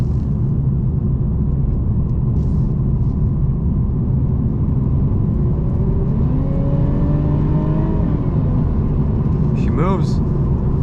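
A 2020 Mercedes-Benz E350 4MATIC in sport mode gives a steady low engine rumble inside the cabin, with rising gear-change tones building toward the end as it accelerates.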